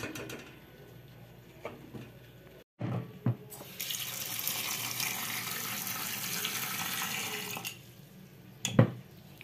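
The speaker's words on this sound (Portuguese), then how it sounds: "E aí eu vou colocar mais água." Water pours steadily into a pot of cassava and meat in a home kitchen, a close, bright rushing stream lasting several seconds after a few clanks, then cutting off with a final knock.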